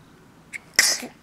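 A single sneeze from a child with hiccups, a soft intake followed by a sharp, close, explosive burst that fades quickly.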